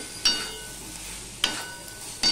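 Vegetables with about two spoons of sugar are sautéed in a pan, producing a soft steady sizzle broken by three sharp scraping stirs, close and quiet.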